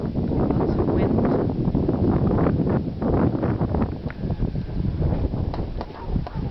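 Steady wind buffets the microphone at a viewpoint above the Pollara crater on Salina, Sicily, a constant loud roar with gusty swells throughout.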